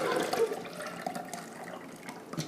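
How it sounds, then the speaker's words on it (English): Homemade bone broth from roasted chickens pours into a pitcher in a brief, steady liquid stream that trickles and splashes near the microphone. "I pour the bone broth into this"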